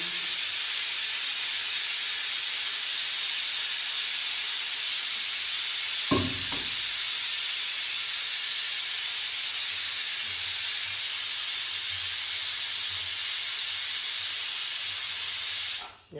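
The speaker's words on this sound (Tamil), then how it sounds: "அட அட அட ஆவி பறக்குதியா ஃப்ரெண்ட்ஸ். இட்லி வெந்துருச்சு." Steam hissing steadily from an idli steamer in a village kitchen, a broad continuous rush held at even loudness for the whole stretch, broken by one short low thump near the middle and cut off abruptly at the end.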